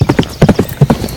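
Horse hooves clip-clopping in a close, loud, steady rhythm as a show jumping horse moves over an indoor floor during a practice run.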